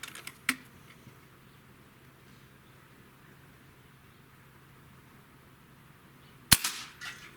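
Two sharp suppressed shots from a Beeman Commodore 1365 air rifle, one near the start and a louder one near the end, each a quick crack with a short tail over a quiet background.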